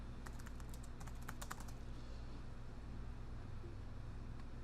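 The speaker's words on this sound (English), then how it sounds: "Can't see what I'm typing." Typing on a computer keyboard while configuring OSPF on a branch router, a short burst of faint quick key clicks early on, then a low steady hum.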